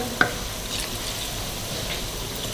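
Chicken kachori fries in hot oil, a soft continuous sizzle with one brief sharp clink near the start, faint and steady with no talking.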